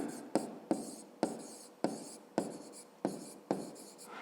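A pen scratches on paper while a math exercise answer is written out, in a series of short, close strokes repeated about every half second with brief pauses between them.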